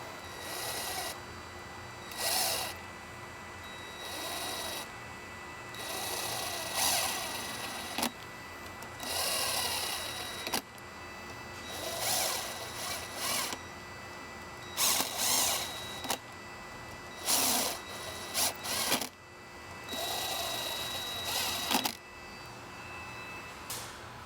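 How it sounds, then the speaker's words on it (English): An impact driver running in pressure plate spring bolts with a 5mm Allen bit during a Rekluse clutch installation, repeated short bursts of buzzing and rattling separated by brief pauses. "You can use an impact, just do it very carefully."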